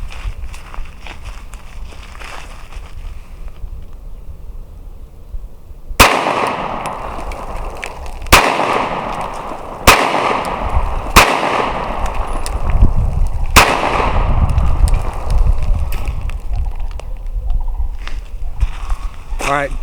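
Glock 43 pistol fired outdoors at a target, about six sharp, loud shots spaced a second or two apart, the first after a quiet lead-in, each ringing out briefly over background noise.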